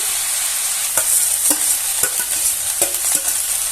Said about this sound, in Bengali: ভালো করে আলতো হাতে নেড়ে নিতে হবে